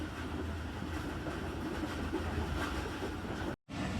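Tezgam Express passenger train running on rails, a steady close rumble with rhythmic clickety-clack of the wheels, dipping briefly near the end before the noise returns.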